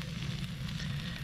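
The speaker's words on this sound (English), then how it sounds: "they're doing some serious sizzling here." Food sizzles and crackles steadily in a hot pan, a close, continuous frying hiss over a low background hum.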